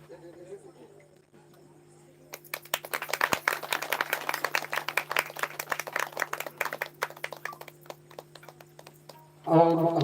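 Audience clapping at a ceremony, a burst of uneven hand claps that starts after a quiet moment, peaks, then thins out. A steady hum runs under it, with a voice briefly at the start and end.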